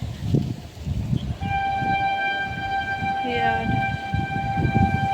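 A train rumbles past outdoors near a garden with mango trees, its steady horn sounding a long sustained tone midway, while wind and nearby voices carry underneath.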